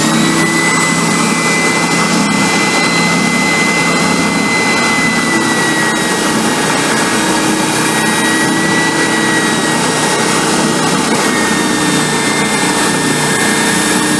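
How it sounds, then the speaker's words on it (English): A spindle sander runs continuously while sanding wood, giving a loud, steady whirring drone with a constant high whine, close and unbroken throughout. "I'm using the spindle sander"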